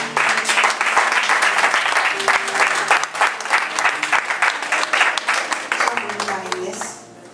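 A church congregation at an evangelist's address bursts into loud, dense applause and cheering, sustained for several seconds before tapering off near the end.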